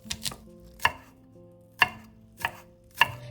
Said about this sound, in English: Finally, we roughly mince 2 cloves of garlic, but don't chop them too fine.